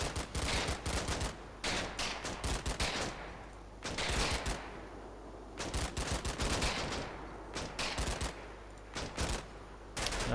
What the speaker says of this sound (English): I'm gonna just give him a little bit more fire.